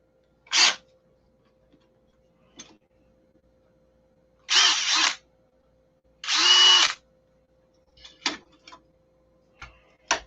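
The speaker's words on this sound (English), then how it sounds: "Drill bit popped out." A cordless power drill working on doors gives several short whirring bursts, two longer runs in the middle, spaced by silences and light clicks and knocks, close and fairly loud.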